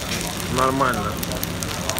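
Hong Kong street food crackles and sizzles nonstop with scattered pops, while a voice speaks briefly over it partway through.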